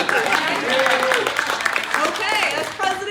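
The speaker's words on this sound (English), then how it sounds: "Applaud for this guy too." Applause from attendees at a community association's quarterly meeting, steady clapping from a modest crowd running under a voice talking over it.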